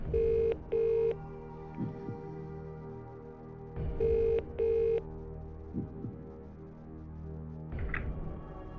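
A phone-a-friend call in a Who Wants to Be a Millionaire trivia video game: short dialing tones, then two pairs of steady electronic ring tones with a pause between them, clear and fairly loud.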